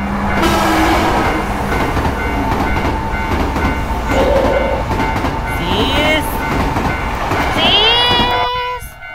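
A train passes in the horror game Tsugunohi with loud, continuous rumbling and clattering on the rails. Squealing, chirping tones rise near the end before the sound cuts off abruptly.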